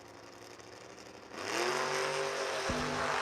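An Oldsmobile Starfire drag car launches in a wheel stand, its engine rising from a low idle into a loud, sustained high-revving roar with a sudden gear shift partway through.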